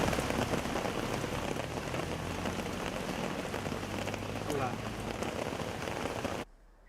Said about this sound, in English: Continuous rainfall has caused waterlogging in several areas in Chattogram city